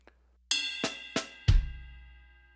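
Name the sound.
drum kit playing songo groove with snare ghost notes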